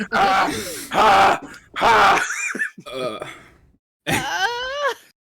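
A voice imitates heavy panting with a run of loud, breathy groans and gasps in uneven bursts, separated by short pauses.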